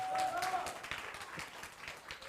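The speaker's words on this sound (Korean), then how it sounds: "그 대동중학교 박수." Youth group members at a middle-school church worship service clap for Daedong Middle School, a fairly faint, quick patter of hand claps that is mixed with background voices and room noise.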